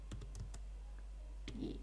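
Keystrokes on a computer keyboard while text is entered into a Google search, a few quiet clustered taps followed by a short pause and another tap, close and faint over a steady low hum.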